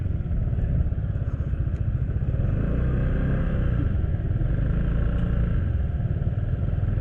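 A small CVT scooter engine, on an FKM MTX 150, runs steadily up close, its low buzzing drone with rhythmic pulsing continuing without letup throughout.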